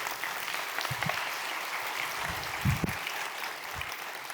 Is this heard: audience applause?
yes